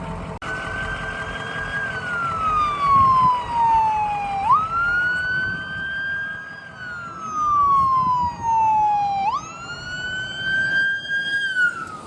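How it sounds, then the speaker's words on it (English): Emergency vehicle sirens wail past on a mountain road heading into Colorado back country, a rising and falling tone repeating in long sweeps over engine rumble, loud and close, with no talking. "that's usually never a good sign when there's emergency vehicles flying by heading into the back country"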